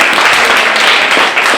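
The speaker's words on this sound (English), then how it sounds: "let's all give them a round of applause" Audience applause at a speaking event, a dense wash of clapping hands filling the whole short stretch, loud and steady with no pause.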